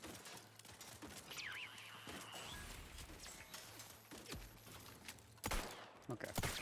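Gunfire in the video game Outer Worlds 2 crackles through a busy mix of game effects and music, with a sharp louder burst of shots near the end.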